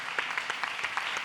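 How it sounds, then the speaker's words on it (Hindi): A church congregation at a Sunday gospel meeting claps together in a brief burst of steady, even applause. "थोड़ा से उस पवित्र यीशु मसीह के लिए ताली बजाइए।"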